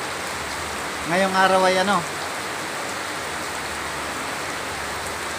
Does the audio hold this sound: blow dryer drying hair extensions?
no